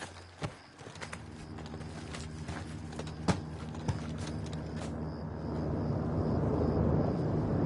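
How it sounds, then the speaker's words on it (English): A helicopter approaching in a Call of Duty campaign, a low rotor drone swelling louder toward the end, after scattered footsteps and sharp clicks over a constant hum. "Got a heli incoming."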